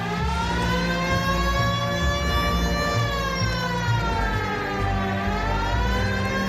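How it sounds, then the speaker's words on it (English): A police car siren in a video game set in 1940s-style LAPD streets wails loudly and continuously, its rising and falling tone sweeping over low engine rumble, with no voices. "Hit the siren"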